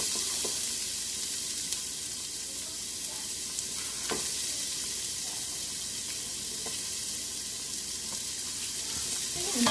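Diced onions and garlic sizzle in hot olive oil over high-medium heat, a constant loud hiss with occasional light clicks of stirring, close up and without talk.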